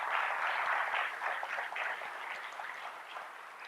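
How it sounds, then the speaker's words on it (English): Applause from a meeting audience of a school design team, a dense burst of clapping that starts strong and gradually thins and fades over a few seconds, with no voices over it. "Round of applause,"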